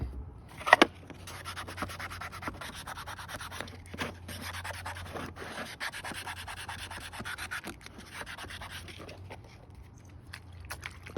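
Wet sanding a hazy solar yard light panel with sandpaper produces a steady, close scrubbing rasp of repeated rubbing strokes, with a sharper scrape near the start.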